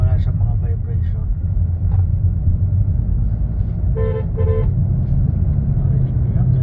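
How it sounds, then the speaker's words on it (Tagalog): Two short, tonal toots from the horn of a 2019 Hyundai Tucson diesel sound over a steady engine rumble, with a voice speaking briefly just before them. "Narinig niyo, ang ganda ng busina."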